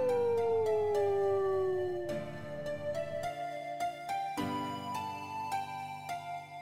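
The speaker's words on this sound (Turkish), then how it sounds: "Ve kurtlar böyle ses çıkarırlar." A wolf howls in a long, sliding tone that falls slowly, then breaks into shorter overlapping howls, loud and close with no talking.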